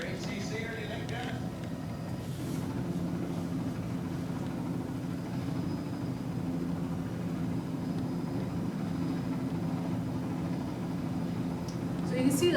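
A helicopter hovers over bears in the wild, giving a continuous, steady engine and rotor drone at moderate loudness that carries through the whole stretch with little change.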